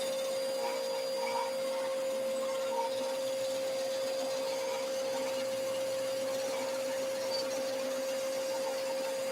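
A bandsaw cuts a curve through a wooden vase blank with a steady, loud mechanical whine and a constant high tone, running without pause.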